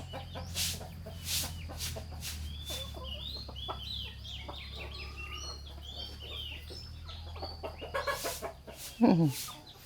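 Chickens cluck and call intermittently on a rainy night over a steady low hum, with a louder rising squawk near the end.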